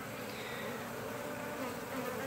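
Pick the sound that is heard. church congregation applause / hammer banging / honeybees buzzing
honeybees buzzing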